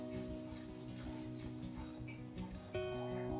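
Masala paste of turmeric, coriander and cumin frying in a kadai as it is stirred, a steady close sizzle running throughout with a soft clatter near the end.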